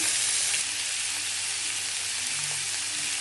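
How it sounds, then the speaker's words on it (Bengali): Young jackfruit pieces fry in a pan with salt and turmeric, giving a steady, close, dense sizzle that holds throughout with no talking. "ভেজে নিচ্ছি, নুন হলুদ দেবো"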